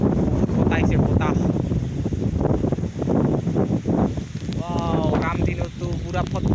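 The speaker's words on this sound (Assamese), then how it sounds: "বতাহ আহিছে বতাহ" Strong wind on a rainy afternoon over a flooded wetland buffets the microphone with a constant loud roar, while a person talks over it throughout.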